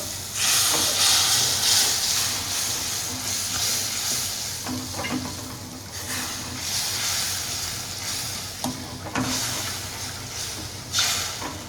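A steady, bright hiss of Koli masala and water bubbling and sizzling in a pan, with a few soft clinks and scrapes now and then.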